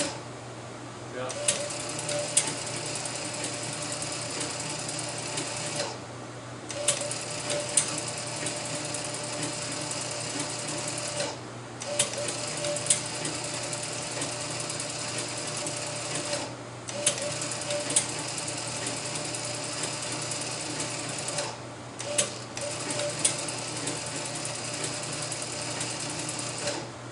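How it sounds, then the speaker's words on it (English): The selector motor of a 25-cent coin-operated palm reader machine running: a steady mechanical whir with ratcheting clicks, stopping briefly and restarting four times in regular cycles, close and moderately loud, with voices heard at points. "have to add a start delay on this motor, on the selector motor"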